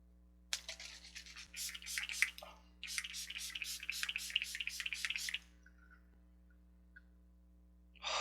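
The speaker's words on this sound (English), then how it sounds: "Shake well, apply to clean skin, hold bottle 8 to 10 inches away, and mist face several times" Urban Decay setting spray is pumped onto a face in two quick bursts of rapid hissing spritzes, close and crisp, followed by a few faint clicks and then quiet.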